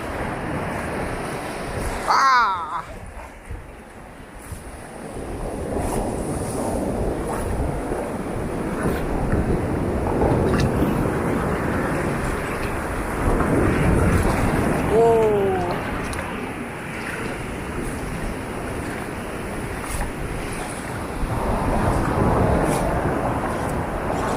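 Surf on the beach at Playa de Islantilla in southern Spain rolls in as a continuous broadband wash with swelling surges, close by and mixed with gusty wind noise on the microphone.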